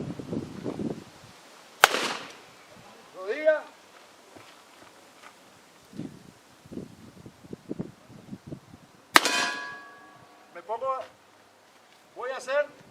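Pistol shots ring out on a shooting range with steel targets, a few sharp distant cracks spaced several seconds apart, heard under people talking nearby.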